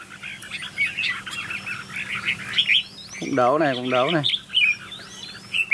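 Decoy songbirds chirp and trill repeatedly at close range during a Vietnamese bird-fighting trial, with someone talking over the calls and a brief warbling burst in the middle.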